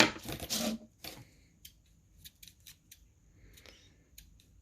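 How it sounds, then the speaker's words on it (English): Scissors snip through cardboard, a loud crunchy cut at first followed by a series of short, sharp snips spaced irregularly. "I'm using the scissors wrong"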